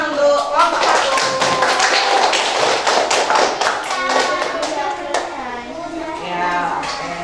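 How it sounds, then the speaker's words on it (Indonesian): Children clapping together in a primary school classroom for a winning group, a dense, loud burst of close hand claps lasting several seconds with faint voices mixed in. "Tepuk tangan untuk kelompok 1."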